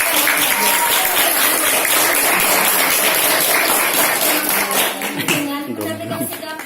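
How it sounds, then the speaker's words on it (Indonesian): Crowd applause at an Indonesian Islamic festival, a dense, steady roar of many hands clapping that fills the whole clip and thins slightly near the end, with voices mixed in. "Demikianlah Tepuk tangan."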